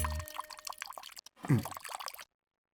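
Water poured into a drink of liquor makes a short liquid splash and trickle, with a brief pause, then a second burst of pouring before it cuts to silence.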